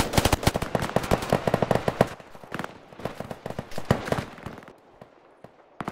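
Rapid bursts of gunfire in the Roblox shooter Fireteam, dense automatic volleys and single cracks, loud at first, thinning toward the end with scattered shots, some nearer, some distant.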